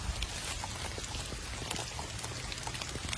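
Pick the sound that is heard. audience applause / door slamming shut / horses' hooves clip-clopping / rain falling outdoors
rain falling outdoors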